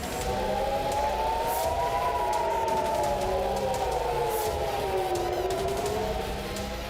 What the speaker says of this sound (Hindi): हेलीकॉप्टर के करीब से गुजरने के बाद तेल अवीव में air red alert siren activate हुए।